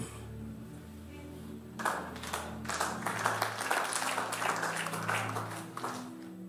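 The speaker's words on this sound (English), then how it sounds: "I hope as you are clapping" An audience claps at an Easter church conference, breaking in after a quiet, humming moment and then keeping up a moderate, steady patter of applause for several seconds.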